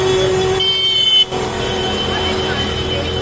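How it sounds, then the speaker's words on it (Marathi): Sunday road traffic at the Matheran taxi stand near the train station, with vehicles rumbling by close and a car horn tooting near the start, under a voice talking throughout. "ट्रॅफिक बघा आज संडे इथे किती गर्दी आहे."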